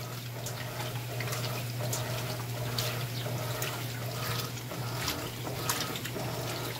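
Water flowing steadily into an Electrolux Premium Care 13 kg top-loading washing machine as it fills, a continuous even rush with a low steady hum underneath, moderately close and without pauses.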